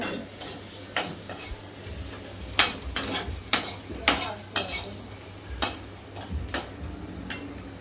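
Ginger sautéed in a pan while cooking a kid's Chinese bhel snack, a soft steady sizzle broken by a run of sharp metal spatula scrapes and taps against the pan, close and irregular.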